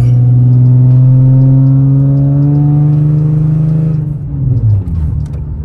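A Nissan Z engine revs loudly and close by, its droning pitch climbing steadily before dropping off as the car shifts and rumbles on.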